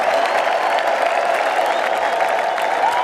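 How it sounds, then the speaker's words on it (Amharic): A church congregation bursts into sustained clapping mixed with high ululating cries and crowd noise, loud and continuous throughout, filling the space without any single voice standing out. "ኧረ እልልታ ጭብጨባ ለመንፈስ ቅዱስ"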